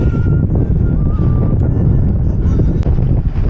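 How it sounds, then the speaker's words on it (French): Strong mountain wind buffets a microphone at a pass near the Gorges de Galamus, a loud, continuous low roar with gusty fluctuations. "Le vent, il est dangereux."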